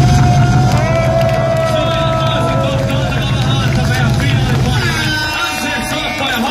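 A packed audience at the 2018 Finnish rap championship final roars and cheers steadily throughout, a dense wall of crowd noise with a voice over the top before the din eases slightly near the end.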